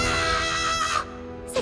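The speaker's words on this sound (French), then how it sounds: "C'est toi qui viens de hurler comme une petite fille?" A high, harmonic wail like a scream from a cartoon robot character, sustained loudly for about a second, then cutting off, with a brief squeal following near the end.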